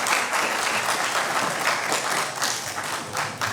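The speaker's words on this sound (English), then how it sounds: "I think that deserves a round of applause" Steady, dense applause from an audience honouring Dr. Karan Singh at a tribute event, sustained and fairly close throughout with no pauses.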